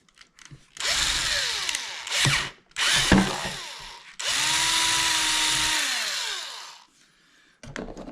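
Power drill boring through plastic on a Toyota Supra project car, several loud whirring bursts that rise and wind down, separated by brief pauses and ending in quiet.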